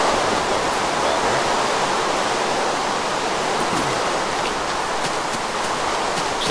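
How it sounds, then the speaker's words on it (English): Water pouring and splashing from a bucket in the Minecraft video game, a loud continuous rushing wash that holds steady for several seconds and carries no speech. "so I'm going to get buckets of water"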